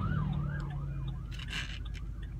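An ambulance siren wails in rising and falling sweeps as it passes nearby over steady traffic rumble, fading as it goes by.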